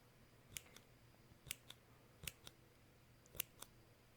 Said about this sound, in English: I might just be swapping around with my different scissors here.